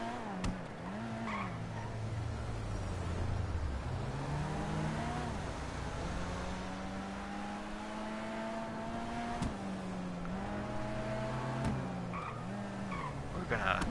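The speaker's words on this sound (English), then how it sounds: "we're going to go ahead and launch this car off of Mount Chiliad" Car engine in a video game revving near Mount Chiliad, with a steady drone rising and falling through gear shifts for the whole stretch and a few sharp clicks. Speech may be present.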